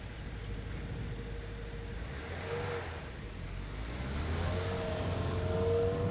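A 2024 Subaru WRX TR drives on the road with a steady cabin hum of engine and tires, the engine note rising as it accelerates through gears toward the end.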